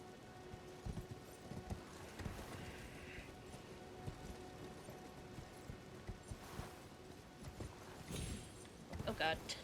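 Horse hoofbeats from riding a mount in the video game Elden Ring: a steady clopping rhythm beneath ongoing talk, fairly faint in a busy game mix.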